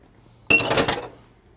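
A heavy skillet clanks once on a stovetop, a short bright metallic clatter lasting about half a second, close and fairly loud, then fading.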